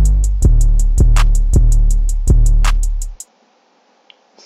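FL Studio drum beat of a basic clap and hi-hat pattern over a deep, booming 808, about three seconds of steady rhythmic hits that stop abruptly, followed by near silence.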